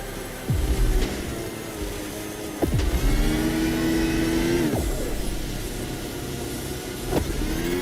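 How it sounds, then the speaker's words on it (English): Car engines in The Crew Motorfest, rated at 250 kilowatts, rev hard in repeated sweeping surges with shifting pitch, loud and close, with no talking. "Just look at those 250 kilowatt engines at work."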